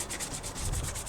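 Hand sanding of a weathered wooden saw handle: close, steady, rhythmic abrasive rubbing strokes with no voices.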